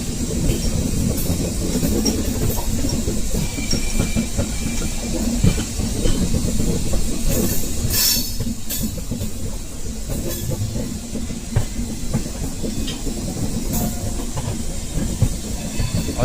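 The New Delhi–Lucknow Swarn Shatabdi Express runs on the rails approaching Lucknow Charbagh, producing a continuous, fairly loud rolling rumble with steady clickety-clack wheel clatter and occasional hissing, with no talk.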